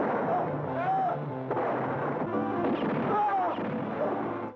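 Gunfire erupts during a police shootout in a schlock martial arts film, with loud dense bursts of shots and crashes layered over music and shouting throughout.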